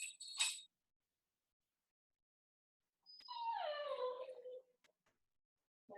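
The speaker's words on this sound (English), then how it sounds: "My doggy's not happy." A dog whimpers unhappily during a deep stretch yoga class, a brief sharp yelp first, then after a pause a longer falling whine, with a faint start of another at the end; no talk.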